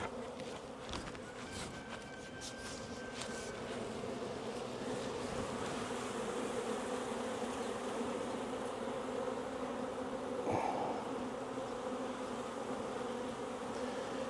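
A steady, dense buzzing from a honey bee swarm fanning on a box fills the air, close and continuous, with no talking.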